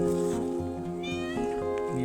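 A cat at a garden and animal sanctuary meows close by, with drawn-out tonal cries running through the moment alongside a person's voice.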